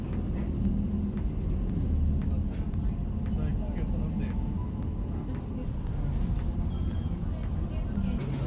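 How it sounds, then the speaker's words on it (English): City bus in Japan heard from inside the cabin: a steady low engine and road rumble runs throughout, with faint rattles, while passengers talk nearby. "Our bus has arrived."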